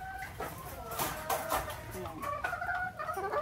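A Golden Boy Sweater hen, a purebred gamefowl, clucks repeatedly up close in a farmyard, with someone speaking quietly under the fowl sounds.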